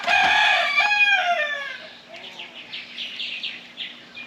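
A rooster crows once, a clear loud call near the microphone, trailing into softer clucks and chirps from the surrounding fowl.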